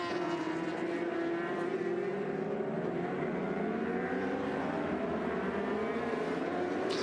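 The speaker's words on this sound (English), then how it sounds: "So Leon Haslam opens the throttle, accelerates out the last corner, coming down the start-finish straight" A Suzuka 8 Hours endurance racing motorcycle accelerates out of the last corner and down the start-finish straight. A continuous engine whine climbs through the gears, heard alongside broad circuit noise, and it stays loud throughout with no voices.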